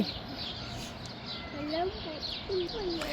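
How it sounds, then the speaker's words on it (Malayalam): Several birds chirp and trill in short bursts at Riyadh Zoo over a steady background murmur, growing busier toward the end. "ഇവിടെ ഏറ്റവും രസം കിളികളുടെ ശബ്ദം കേൾക്കുന്നത് അല്ലേ"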